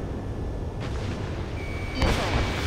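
An artillery volley in Ace Combat 7 goes off amid steady battlefield rumble, with a soft thud first and then a louder, sharper blast near the end, while radio chatter runs faintly underneath.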